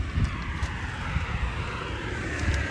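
A vehicle engine revs hard in a steady, loud roar with a deep low rumble that holds for the full length, with no voices.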